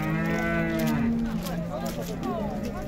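Cattle low loudly and continuously at a livestock market in Sokuluk, with layered overlapping moos close by against a busy background hum.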